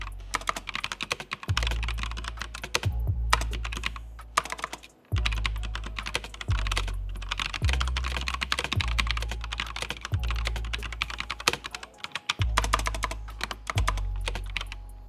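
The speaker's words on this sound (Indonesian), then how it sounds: "berikut ini Pichel coba kasih contoh suara dari Mechanical Switch NX Red dari Asus ROG Strix" Rapid, continuous keystrokes clatter on an Asus ROG Strix Scope NX TKL mechanical keyboard with NX Red switches, close and crisp, with brief pauses between bursts of typing.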